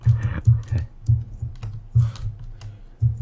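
A loud computer keyboard clatters during a Minecraft hide-and-seek game, with bursts of quick, hard keystrokes in irregular clusters, close to the microphone, and no talking.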